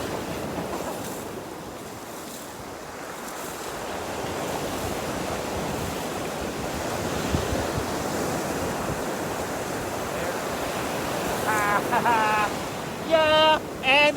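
Ocean surf washes steadily onto a Cape Breton beach, a continuous near, loud rush of breaking waves with wind, while a person digs for sea glass; brief high clinks and scrapes sound near the end.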